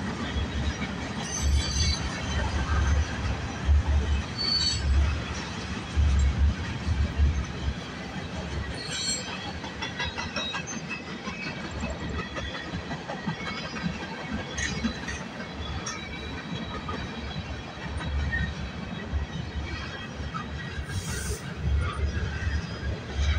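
A CN/CP freight train passes at Bronte with a continuous rumble of rolling wagons and repeated high metallic wheel squeals, heard at moderate distance and steady loudness throughout.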